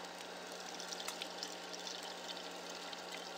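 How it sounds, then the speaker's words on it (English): Water pours steadily into a household container, a continuous even rushing stream with no breaks or talk, at moderate closeness. "I'm going to go ahead and get some water in here"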